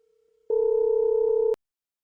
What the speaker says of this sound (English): Make a phone call to turn off the light with the controller.